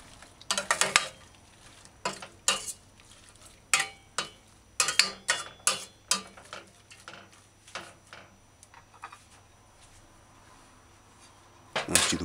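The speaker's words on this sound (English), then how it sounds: "stir cabbage into the coconut oil and the herbs" Shredded cabbage being stirred into coconut oil and herbs in a pot on a stovetop, a series of scraping, clinking spoon strokes in irregular bursts with quiet pauses between.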